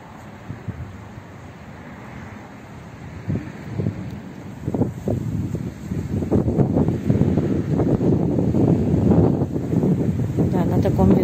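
Strong wind buffets an outdoor microphone near young flowering acacia trees, a low rumbling roar that builds and grows louder through the second half.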